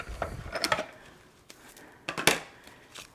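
Stampin' Up! Mini embossing machine being cranked through with a folder, a few quiet mechanical clicks and grinding ratchets in short bursts, close and isolated.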